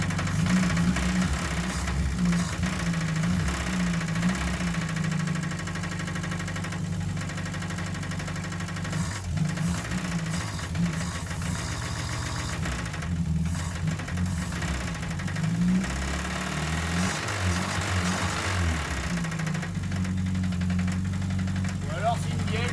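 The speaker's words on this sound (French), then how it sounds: "Le moteur tourne quand même bien rond." A Renault Estafette Teilhol engine idling, with a steady, even, low mechanical hum and a faint knocking hint running throughout, while people talk over it.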